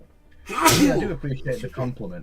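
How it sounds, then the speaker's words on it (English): One sharp sneeze bursts out during a relaxed chat, followed by a person speaking normally. "Sneeze."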